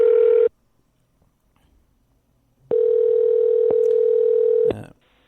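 A steady electronic telephone tone during an attempted call: a brief burst, a gap of silence, then a longer unbroken two-second stretch that cuts off abruptly, loud and clean with no talking.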